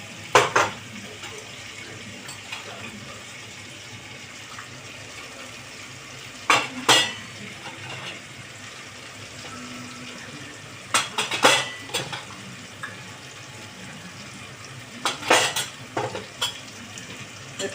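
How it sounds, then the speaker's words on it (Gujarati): Potatoes roasting with spices in a pan for vaghareli khichdi: a low background sizzle broken by a few bursts of metal spoon clatter against the pan, close by, without speech. "બટાકાને થોડી વાર શેકાવા દઈશું"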